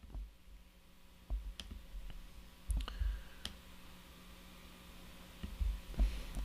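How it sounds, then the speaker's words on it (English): Several sharp, dry mouse clicks at a computer desk, scattered and irregular over a low steady hum, close and fairly quiet, with no one talking. "I'm going to go click this one here."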